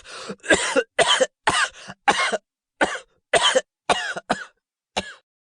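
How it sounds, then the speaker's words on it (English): A man performing a scene from a dramatic reading coughs in a long fit, about a dozen harsh, close coughs in uneven bursts with short pauses, no other sound around them. "How long have you had that cough?"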